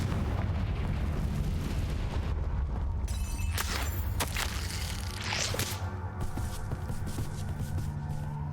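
Confringo fire-charm blasts in Hogwarts Legacy, with sharp cracking bursts and a rolling boom layered over a dense, continuous rumble of game ambience and music.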